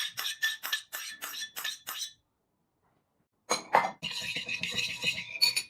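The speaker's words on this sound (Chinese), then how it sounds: "搅拌均匀" A spoon stirs a sauce of black pepper, soy sauce and oyster sauce in a bowl, giving rapid rhythmic clinks against the dish, a short pause, then a denser run of scraping, clinking strokes, close and fairly quiet.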